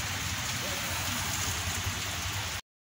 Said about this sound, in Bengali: এরকম হালকা বৃষ্টিপাত চলছে।